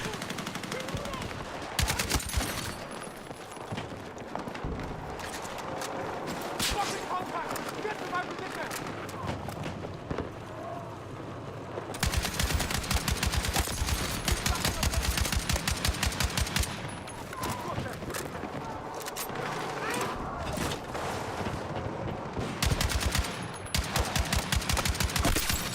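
Sustained bursts of RPK light machine gun fire in a video game, with rapid automatic rattling that stops and restarts over roughly half a minute, loud and close, with a voice talking in places.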